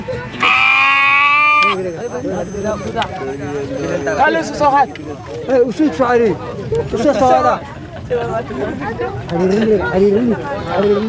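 Sheep bleat again and again close by during a Rendille new moon ceremony, several overlapping calls with wavering pitch. People talk faintly in the background.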